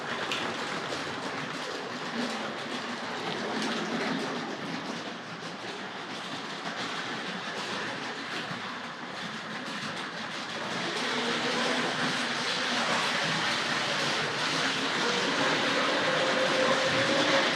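An early-1970s Hornby R.258 Princess Elizabeth model locomotive runs on a layout track with a continuous rattling rolling hum that grows slightly louder toward the end.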